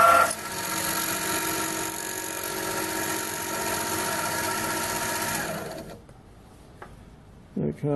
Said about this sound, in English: Just spotting this with a spot drill first.